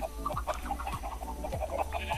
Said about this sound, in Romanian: Aici am găini.